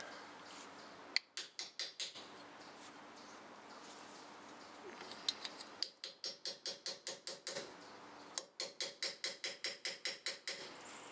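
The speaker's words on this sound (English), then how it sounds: "chisel, hammer." Rapid bursts of metallic hammer taps on a chisel during front wheel bearing work on a 2007 Toyota Tacoma 4x4, several quick clusters of sharp strikes separated by pauses, fairly close with faint background hum.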